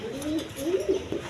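Pigeons of several breeds, including Gola pigeons, coo at a farm in a low, steady, rolling murmur that swells and fades through the moment, fairly close and moderately loud.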